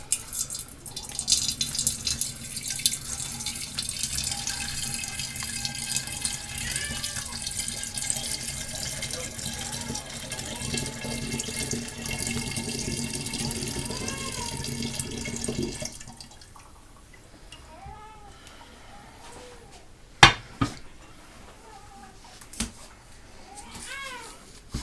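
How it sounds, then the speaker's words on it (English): Liquid pours steadily through a funnel while making strawberry cider, a continuous splashing stream for about fifteen seconds, then stopping, followed by a few meows from a cat and sharp knocks. "So we'll get started with the pouring."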